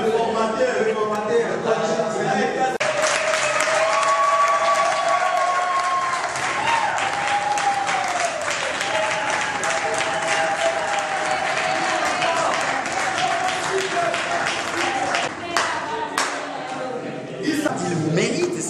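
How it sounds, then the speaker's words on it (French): An audience at a social entrepreneurship training session breaks into sustained applause, loud and continuous, with faint voices and some tonal sounds mixed in before the clapping thins near the end. "Vous avez applaudi pour Est Eagle Foundation."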